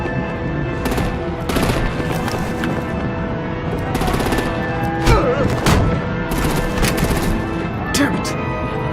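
Heavy gunfire from Batman: The Enemy Within, with rapid bursts and volleys of shots firing continuously over a steady musical score and a dense mix of game effects, at loud and even intensity throughout.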